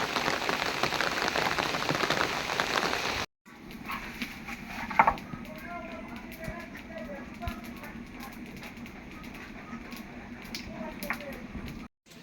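Steady rain falls around a rural village home where cattle are sheltered indoors. A loud, dense hiss fills the first few seconds, then it drops to a softer, continuous patter with faint scattered background noises.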